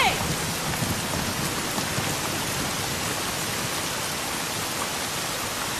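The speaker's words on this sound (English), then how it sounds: "Bella and Jacob in the Rain" Steady heavy rain in a film scene from The Twilight Saga: New Moon, a dense continuous hiss that stays constant and loud throughout.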